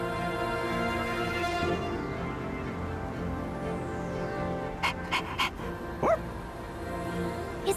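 A dog panting in the video game Persona 3 Reload, soft rhythmic breaths set against a steady sustained music bed, with a few brief sharp sounds near the end.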